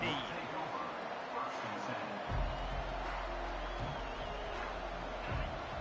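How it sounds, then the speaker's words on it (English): A stadium crowd at a football game roars in a sustained wash of cheering and noise, with a commentator talking over it as the din swells. "This crowd bringing an ear-splitting welcome to their visitors."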